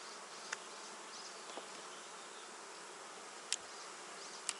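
Honey bees buzz around an open hive frame while a split colony is being made and foundation added, a steady dense hum throughout with a few faint clicks and taps.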